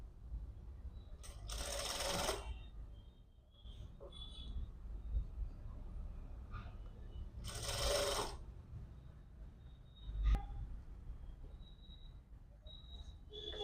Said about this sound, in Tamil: 2 அரைக்கட்டை ஒன்றா வச்சுட்டு 1/2 இன்ச்சுக்கு தையல் போட்டு வரணும்